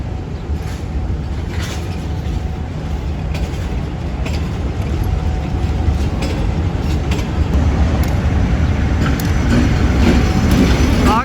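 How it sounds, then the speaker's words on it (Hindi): Trains and locomotives at Lahore Junction railway station, Pakistan, make a steady, loud rumble of rolling rail cars with faint clicking and occasional metallic squeals, continuous throughout with no speech. "आज माशाल्लाह लाहौर जंक्शन रेलवे स्टेशन पर सही इंजनों की रौनक लगी हुई है, इंजन की और कोचेज़ की और ट्रेन की"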